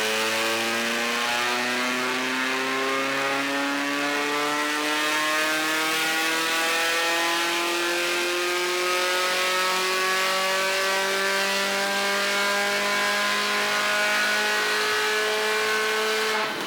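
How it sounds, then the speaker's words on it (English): A car with a straight-pipe exhaust revs steadily upward, a loud, raw, buzzy engine note climbing slowly in pitch for over fifteen seconds with no talking. "not a single car on the planet sounds good with a straight pipe"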